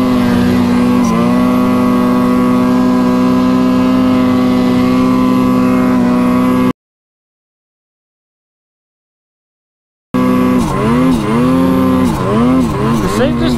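A snowmobile engine running rough on a downhill run: a loud, droning motor holds a steady pitch, cuts out completely for a few seconds, then returns with uneven, wavering revs.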